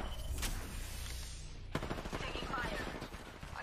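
Gunfire in the Apex Legends battle royale shooter, a rapid burst of automatic shots cracking at mid distance after an earlier single report, fairly quiet under game ambience.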